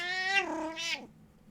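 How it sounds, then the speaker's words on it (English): A domestic cat, a hungry female, gives one close, clear, drawn-out meow that rises and then falls in two parts before fading into a quiet room. "There's my cat."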